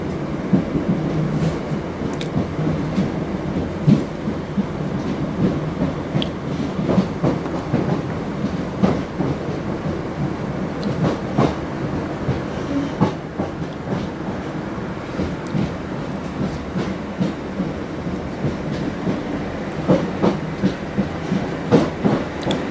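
A diesel train rumbles past at length, its steady low roar mixed with repeated rhythmic clicks and clacks of wheels over rail joints, continuous and fairly close throughout.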